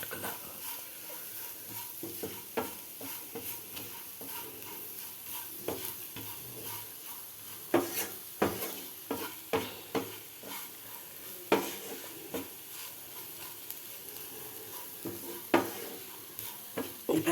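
Bitter gourd sizzles steadily in a hot pan while a spoon stirs it, scraping the metal in irregular bursts; cooking is close and continuous, with no talking.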